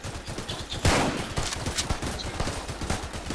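Tower Defense Simulator sniper fire comes as rapid repeated gunshot cracks over busy game noise, with one louder shot standing out. The action is steady and close, with no speech.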